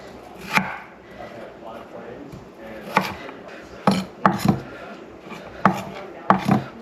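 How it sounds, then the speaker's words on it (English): A knife chops beef into small strips on a cutting board for a beef and broccoli stir fry, with about eight irregular, crisp knocks at close range over a quiet background. "Just flat chop around. And we're just gonna cut them into small little mini strips."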